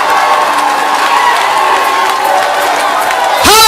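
A church congregation loudly cheering and applauding during a deliverance service, a dense wall of claps, shouts and whoops that stays steady, then a voice cuts in sharply at the end.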